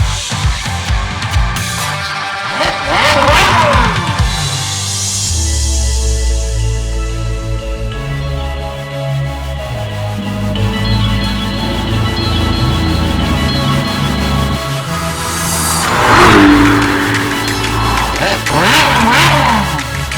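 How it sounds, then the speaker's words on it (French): Ferrari 488 Challenge supercar on the Spa-Francorchamps circuit, its engine loud and close, revving hard through rising and falling gear sweeps with repeated acceleration pulls across a long run. "on se dirige sur le circuit de Spa-Francorchamps au volant d'une supercar"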